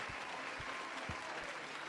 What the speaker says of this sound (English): Everybody, give Corbin a round of applause